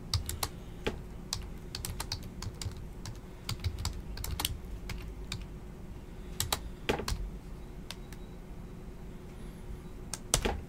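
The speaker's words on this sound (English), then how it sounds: "I cannot type with one hand." Someone types on a computer keyboard in quick, irregular clusters of light key clicks over a steady low room hum, with nobody speaking.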